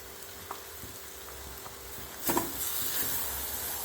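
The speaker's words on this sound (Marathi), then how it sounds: "आता यामध्ये टाकूया ही आपली काजू आणि कांद्याची पेस्ट" Cashew and onion paste going into a hot pan with spices for a restaurant-style cashew curry, a steady low sizzle that swells into louder hissing frying about halfway through, close up with no talking.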